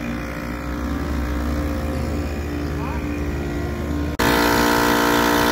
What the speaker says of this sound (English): So Austin has to run the generator, to run the air compressor, to run the pump.